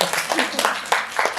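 Audience applause, a fairly loud wash of many hands clapping together, with voices mixed underneath.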